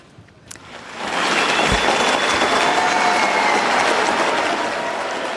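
Supporters and staff break into sustained, dense applause after Boris Johnson's resignation statement. The clapping swells within a second and holds steady and loud to the end.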